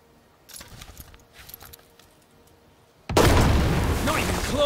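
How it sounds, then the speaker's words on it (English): Artillery fire in Headquarters: World War II, opening with quiet clicks and faint mechanical rattles, then a sudden loud booming blast whose heavy rumble carries on to the end. "Artillery ready."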